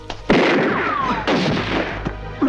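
Gunfire in the final shootout of a Hong Kong action film: several sharp, loud reports at uneven intervals, each with a booming, reverberant tail.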